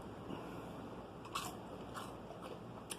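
Nathan's fried onion ring bitten with a few faint, brief crunches spread across a quiet stretch with no talk.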